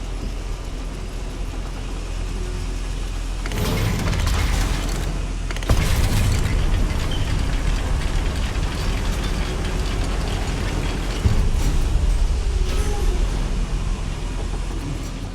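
Steam-driven machinery clanking and hissing inside a goblin mine in Hogwarts Legacy, a dense continuous mechanical roar with sudden louder bursts of steam at intervals.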